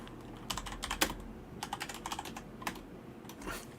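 Quiet computer keyboard typing comes in short clusters of light, close keystroke clicks separated by brief pauses over a low background rumble.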